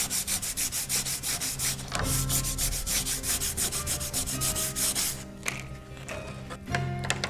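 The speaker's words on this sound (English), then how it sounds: "I use a really rough grit sandpaper when I'm thinning down this bamboo" Coarse-grit sandpaper rubbed back and forth on bamboo being thinned for a bow, a steady rhythm of close, loud rasping strokes that slows and softens toward the end.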